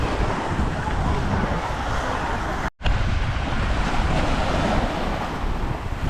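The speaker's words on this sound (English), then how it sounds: "Welcome to Pitalongu Beach. The main beach near Olbia" Waves surge and wash continuously at Pitalongu Beach near San Teodoro, Sardinia, a dense roar mixed with heavy wind buffeting the microphone, with one momentary dropout midway.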